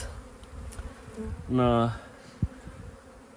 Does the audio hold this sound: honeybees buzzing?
yes